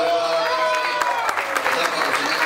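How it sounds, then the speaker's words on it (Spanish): A crowd applauds and cheers at a children's day celebration, steady and dense throughout, with an announcer's voice carrying over the clapping. "¡Un aplauso, Zona Chic!"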